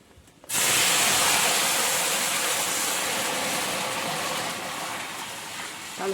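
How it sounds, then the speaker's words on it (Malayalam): Water is poured into a hot pot of whole spices (cinnamon, cloves, cardamom, bay leaf) for beef biryani, bursting into a sudden loud rushing hiss that holds steady and slowly eases. "ഇത് വെള്ളം ഒഴിച്ചു കൊടുക്കാം"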